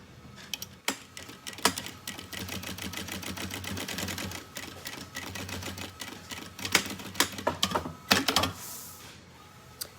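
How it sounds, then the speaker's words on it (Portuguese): A sewing machine stitching a seam on a school backpack, rapid mechanical clatter in irregular bursts with short pauses and sharp clicks between runs, close and fairly quiet. "vamos fazer agora uma costura pé de máquina"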